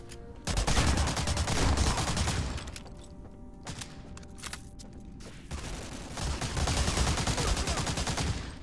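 Gunfire in the World War II shooter Medal of Honor: Allied Assault, with rapid automatic bursts from weapons such as the MP40, two long sustained volleys separated by scattered single shots.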